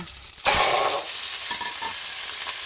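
Chicken pieces for tinulang manok sizzle loudly in a hot pan over strong heat with onion and garlic, a sharp burst of frying as they hit the oil, then a steady crackle.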